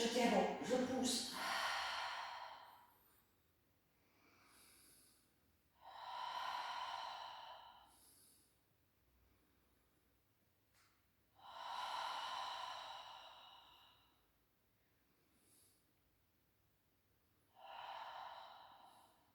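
Breathing during a Pilates exercise: several deep, audible breaths in and out, evenly spaced and close to the microphone, with quiet pauses in between.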